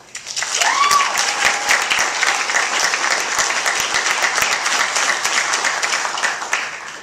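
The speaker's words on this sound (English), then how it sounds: "Round of applause" Sustained applause from an audience at a panel discussion, steady clapping that swells quickly and holds for several seconds before easing off.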